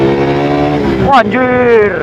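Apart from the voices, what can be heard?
Suzuki motorcycle engine being revved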